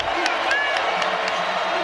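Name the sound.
basketball arena crowd cheering at Georgia vs LSU game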